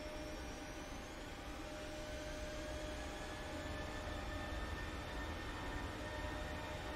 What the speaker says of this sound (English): Love the sound of those engines.